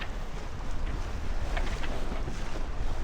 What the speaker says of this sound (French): Il y a du vent, je comprends pas